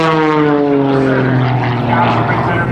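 An aerobatic propeller airplane dives at an airshow with a loud, close engine drone whose pitch slides steadily downward as it passes. A commentator's voice runs faintly under it.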